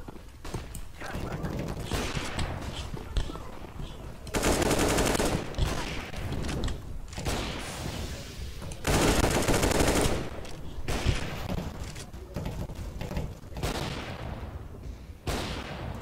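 Rapid CS:GO gunfire rattles in repeated bursts, with two especially loud sustained volleys standing out among scattered shots and mechanical clicks, while a player talks faintly in the background.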